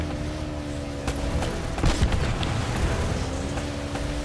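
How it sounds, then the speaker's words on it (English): Enemy gunfire aimed at the player in Uncharted: Drake's Fortune, scattered shots and a dense volley near the middle over a steady droning vehicle hum, moderately loud. "Stop shooting me, assholes."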